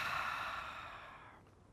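A single long, soft breath let out through the mouth during a yoga session, a breathy airy whoosh that fades over under two seconds, close and quiet with no talk.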